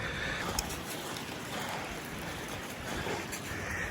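A river flowing along a forest trail loop in Canada, a steady broadband rush of moving water heard close and continuous with no talk over it.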